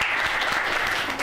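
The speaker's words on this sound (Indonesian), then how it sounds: "Tepuk tangan untuk Mutia deh." Studio audience at a live show breaks into steady, dense applause that fills the whole moment without any talking over it.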